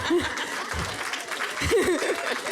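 Crowd applause with scattered clapping, mixed with some cheering voices and a bit of laughter, moderately loud throughout.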